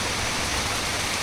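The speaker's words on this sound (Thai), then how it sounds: "ลงมาน้อยเดียวก็จะเห็นน้ำตกแบบนี้" Kuang Si waterfall near Luang Prabang, Laos, running at low flow, gives a constant, even rush of falling water with no voices.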